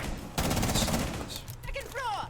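A loud, rapid burst of automatic gunfire is shot through a wall in a Rainbow Six Siege match, sustained for about a second before fading into scattered game sounds and a brief voice.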